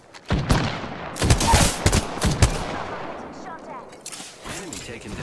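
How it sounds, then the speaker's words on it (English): Apex Legends gunfire during a firefight: a rapid cluster of sharp, loud shots and short bursts, followed by scattered quieter reports. "I am taking fire, friends."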